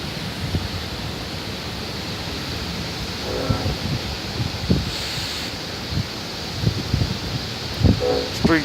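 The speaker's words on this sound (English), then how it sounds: "it's wind blowing hard" Hard wind blows outdoors ahead of a storm, a steady rushing roar with gusty swells and buffeting bursts against the microphone, while faint voices murmur in the background.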